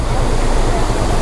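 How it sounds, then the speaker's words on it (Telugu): A waterfall on the road to Munnar in Kerala roars as a loud, steady, close rush of falling water that fills the whole moment without a break. "వాటర్ ఫాల్స్ ఇగో ఇదే వాటర్ ఫాల్స్"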